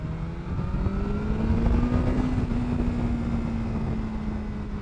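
A BMW S 1000 R motorcycle engine revving steadily up past 6,000 RPM, a loud sustained drone climbing slowly in pitch with no voices.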